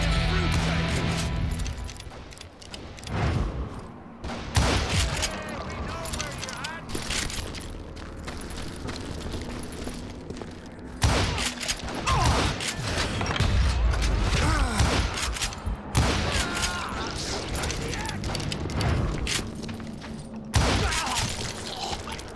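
A Gatling gun rattles in the Wild West shooter Call of Juarez: Gunslinger, firing in long, dense, loud bursts. Shattering impacts and thuds come with it, and voices speak over parts of it.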